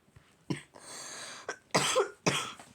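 Several separate coughs from a sick person, close and fairly loud, with short pauses and a bit of throat noise between them; no talking.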